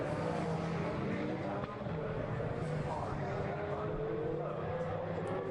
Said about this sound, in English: the two Mark VDS racing cars coming down first and second